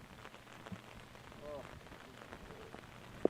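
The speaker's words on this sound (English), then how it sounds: "these guys are definitely dealing with some rain right now" Steady rain patters down over an outdoor disc golf course during a tournament round, a soft continuous hiss with scattered drops, with faint voices and a sharp click near the end.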